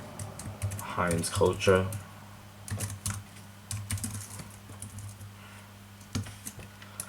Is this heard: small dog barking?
no